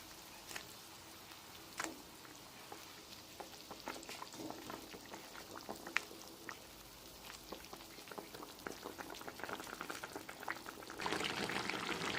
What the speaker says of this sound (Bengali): দেখুন আমার জলটা ফুটে গেছে এবার ওর মধ্যে আমি একে একে সব কোপ্তাগুলোকে দিয়ে দেবো